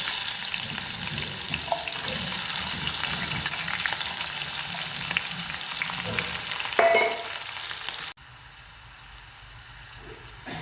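Asafoetida, garlic and green chillies frying in oil for a lemon pickle, a steady close sizzle with intermittent stirring scrapes, then quieter, softer frying toward the end.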